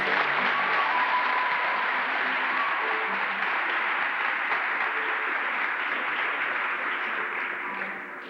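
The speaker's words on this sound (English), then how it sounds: "Let's give them one more round of applause." Audience at a 1991 pageant gives a long round of applause: steady, dense clapping from a sizable crowd that holds evenly for several seconds before fading slightly at the end.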